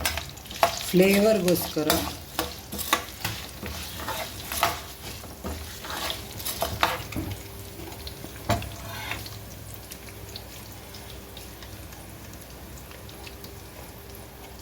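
Cumin seeds, about a spoonful, crackle and sizzle in hot oil, with sharp pops up front settling into a softer, fading fry; a brief voice speaks over it.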